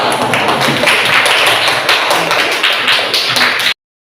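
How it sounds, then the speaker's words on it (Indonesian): Students in a classroom clap in unison, a loud, close, steady rattle of many hands with rhythmic accents that carries on for several seconds and then cuts off abruptly. "Kasih tepuk tangan dulu."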